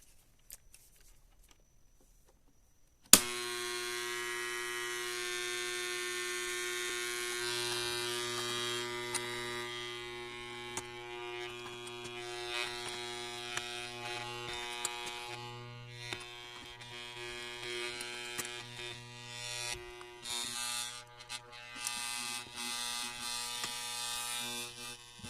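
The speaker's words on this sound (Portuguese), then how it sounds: "vocês só vão ouvir mais o ruído do transformador" A homemade automotive power supply built from a scrap microwave transformer switches on with a click and settles into a steady, loud electrical buzz with a rich tonal hum that wavers slightly over time, with no talking.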